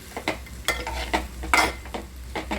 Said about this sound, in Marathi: याला पूर्ण मॅश करायचं